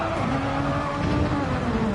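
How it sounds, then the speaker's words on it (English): Race car braking hard in a Super Formula racing game at Lago Maggiore, a loud continuous engine drone with a downshifting tone and faint tire scrub, steady and close throughout. "So late on the brakes, braking past the 50 board."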